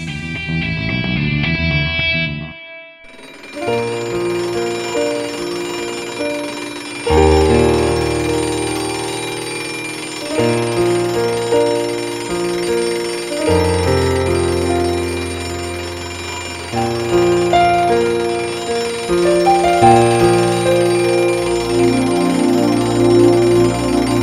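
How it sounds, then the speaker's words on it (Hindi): A children's alarm clock rings with a loud, bright melodic chime that repeats in steady phrases for over twenty seconds, after a brief drop in sound near the start. "बच्चों वाला अलार्म किसने रखा है हमें?"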